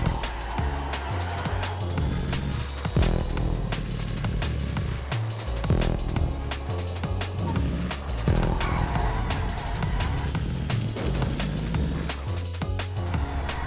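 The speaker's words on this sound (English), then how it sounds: "and now I'm leaving the pits again." Race car engine sounds from a racing video game as the car leaves the pits, a continuous buzzing motor with repeated clicks and tire-squeal textures, loud and steady throughout.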